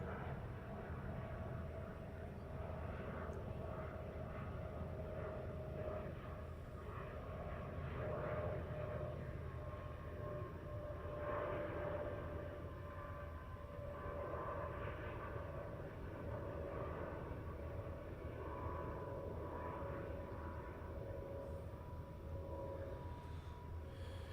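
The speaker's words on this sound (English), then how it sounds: "Through the trees. Air India Dreamliner." Air India Dreamliner departing Heathrow as a faint, steady distant jet rumble heard through trees, a low continuous roar with no clear rise or fall.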